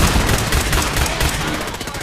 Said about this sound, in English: Sounds like he's got a minigun.